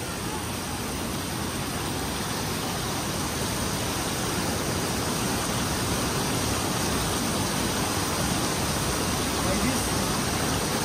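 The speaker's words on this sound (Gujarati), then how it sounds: "ઝરણું છે ઝરણામાંથી પહાડમાંથી પાણી આવે" Spring water flows down from the mountainside near Mussoorie, Uttarakhand, a dense, loud, unbroken rush that stays constant and close from start to finish.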